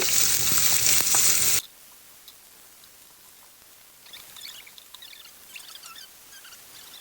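Chicken sizzling in oil over medium heat with onions for Nigerian fried rice: a loud, dense hiss for about a second and a half, then it drops away to a quiet background with faint, scattered crackles and pops near the end, no voices.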